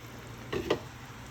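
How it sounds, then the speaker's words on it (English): Thickening homemade brown gravy is stirred as water is poured in, two short close sizzling bursts over a quiet background hiss, with no voices. "It's getting thick, so add more water."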